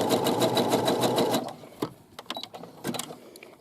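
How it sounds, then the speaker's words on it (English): Sewing machine stitching along a fabric edge of a side pocket, running in a loud steady rapid buzz for about a second and a half, then stopping, followed by a few faint clicks and handling noises. "I just want to stitch along that edge to keep that from fraying"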